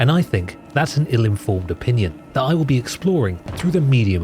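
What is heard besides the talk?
None of the usual background noises is heard.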